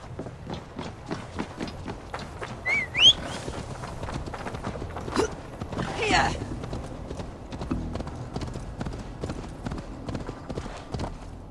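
Horse hooves clip-clop at a steady running pace in Assassin's Creed Valhalla, with game sound effects and someone talking over the ride.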